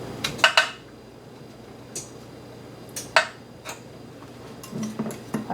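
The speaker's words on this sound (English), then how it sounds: "just put them in the cupcake pan" Cupcake liners of gluten-free, dairy-free pineapple upside-down batter set into a metal cupcake pan, a few sharp metallic clinks and taps spaced a second or so apart, close and fairly quiet between them.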